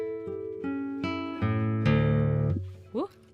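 Classical guitar plucked note by note, beginning soft and gradually swelling in a small, gentle crescendo, close and clear, ending with a brief slide.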